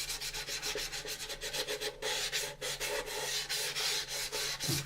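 Rapid back-and-forth rasping as 400 grit sandpaper is rubbed over a plastic AMT 1983 U.S.S. Enterprise model kit, close and continuous with rhythmic strokes and no talk.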